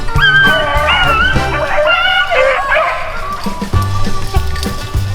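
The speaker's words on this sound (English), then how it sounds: "You got more videos of dogs." Hunting dogs on an Arkansas swamp rabbit hunt bark, yip and whine in the brush, with a run of high, wavering howls and whimpers between loud, close barks.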